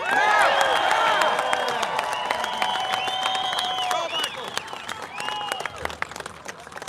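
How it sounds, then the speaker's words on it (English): Crowd at a Sacramento political rally applauds and cheers a candidate for California Attorney General, dense clapping loud at first then gradually thinning out over several seconds. "big round of applause for the next Attorney General in California"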